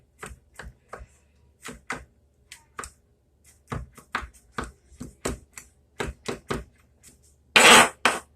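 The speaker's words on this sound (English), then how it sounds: "So I'm going to chop it really, really fine." A knife chops garlic finely on a cutting board in a series of crisp, close taps, irregular at first and then quicker, ending in a brief louder scraping rustle.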